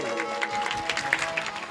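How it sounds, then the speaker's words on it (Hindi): Audience clapping fills a Ram Katha religious discourse gathering, a dense, steady wash of hands with a faint sustained musical tone running beneath it. "एक बार जोरदार ताली"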